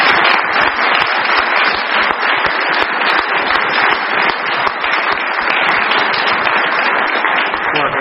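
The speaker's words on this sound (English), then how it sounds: "give Jennifer a big round of applause" Sustained applause from a lecture audience, a loud dense wash of many hands clapping for around eight seconds, with voices faintly underneath.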